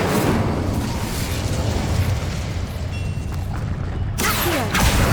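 Fiery spell blast in the Hogwarts Legacy video game, a loud booming explosive burst with rumbling low end that sustains for several seconds, followed by crackling and a second sharp burst near the end.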